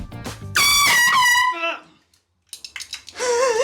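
An air horn mounted inside a prank gift box blares loudly and accidentally for about a second. It wavers and dies away into silence, then a second burst of honking rises after rattling and handling noises.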